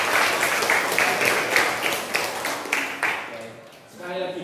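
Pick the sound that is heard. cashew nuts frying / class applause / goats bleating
class applause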